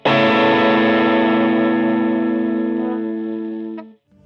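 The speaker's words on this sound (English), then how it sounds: "here is the sound wave of a guitar." A single sustained guitar chord rings out with a heavily processed, effects-laden tone, fading slowly over a few seconds before cutting off.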